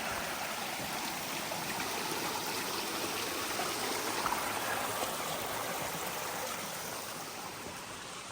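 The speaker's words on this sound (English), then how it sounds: "A nice little creek crossing right here." Small creek at a trail crossing on the Conley Cove Trail in Linville Gorge Wilderness, North Carolina, babbling steadily and close by, an even rushing trickle with no voices.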